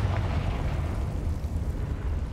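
A Confringo blasting curse explosion in Hogwarts Legacy, heard as a continuous loud low rumble and roar that holds steady for a couple of seconds without talk.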